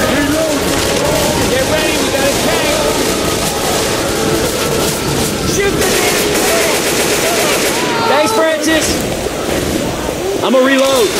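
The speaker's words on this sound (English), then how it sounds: "Shoot the man!" Dense, loud gunfire from the zombie shooter game Left 4 Dead 2 rattles almost without a break, with bursts of rapid automatic fire layered over other game noise and voices.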